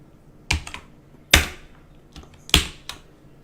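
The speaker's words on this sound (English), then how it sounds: "We go in, we type in score." Fingers typing on a computer keyboard, three short bursts of clacking keystrokes with brief pauses between, close and clear with no talking.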